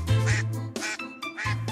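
Farm ducks quack loudly and close by, three harsh, nasal calls in quick succession with brief gaps, alone without talk.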